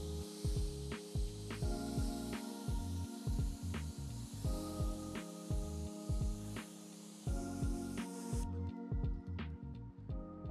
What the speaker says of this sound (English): then I'm going to rinse off the tire to remove all the dirt and grime that we've extracted